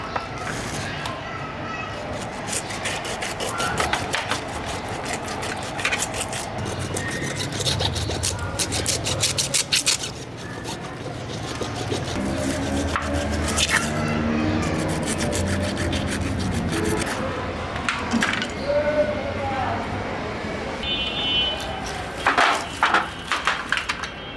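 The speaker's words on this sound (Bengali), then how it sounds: "কাটো দেখি কিভাবে এত বড় মাছ কাটো তুমি" A large five-kilogram bighead fish is cut with a bonti blade, giving steady scraping and rasping strokes that run throughout at close range, with voices talking at times.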